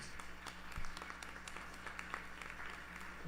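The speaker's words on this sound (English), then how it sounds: "Please welcome him with a round of applause." An audience at a temple anniversary service gives a faint, steady round of applause welcoming a young violinist to the stage, scattered claps blending into a soft continuous patter.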